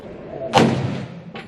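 A single gunshot rings out on a hunting trip in the woods, a sharp, fairly close blast with a short decaying tail, followed by a fainter thump a moment later.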